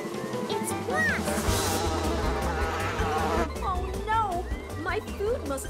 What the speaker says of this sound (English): Wait, do you hear that? Leo, look, it's wasps.